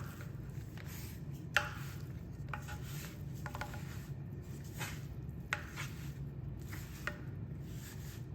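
Beef is worked together with garlic powder, salt, pepper and flour in a bowl, giving quiet, steady rubbing and squishing with a few light clinks of a utensil against the dish.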